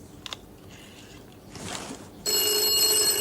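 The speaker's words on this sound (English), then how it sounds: "And it's ringing in the studio." An old wired telephone ringing in a studio, a few faint clicks and dialling mechanism noises, then a loud, steady electric bell ring starting abruptly near the end.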